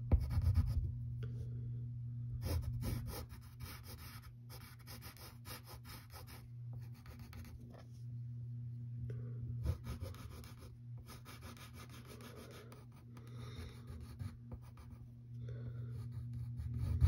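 A pencil drawing on paper, close and faint, with repeated scratchy strokes and brief pauses between lines over a steady low hum, no talk.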